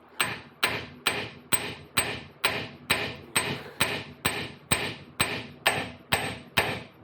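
Light hammer taps seat a pinion seal on a Dodge axle, about fourteen evenly spaced, moderate metallic knocks close by, each with a short ringing decay.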